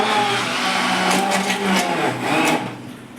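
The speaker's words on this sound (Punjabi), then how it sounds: "ਹੁਣ ਆਪਾਂ ਇਹਨੂੰ ਬਲੈਂਡ ਕਰ ਲਾਂਗੇ ਬਲੈਂਡਰ ਦੇ ਨਾਲ ਆਪਾਂ ਚੰਗੀ ਤਰ੍ਹਾਂ ਅੰਬਾਂ ਨੂੰ ਮੈਸ਼ ਕਰ ਲੈਣਾ ਜੀ" A handheld blender whirs steadily while mashing fresh mangoes for a homemade fruit drink, a loud close motor hum with slight pitch wobbles as it works through the fruit, easing off at the end.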